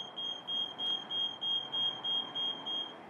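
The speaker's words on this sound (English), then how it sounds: "The machine will then go through a beep cycle" An Athena 850 HE machine gives its start-up cycle of evenly spaced, shrill electronic beeps, about seven in quick steady succession, clear and close.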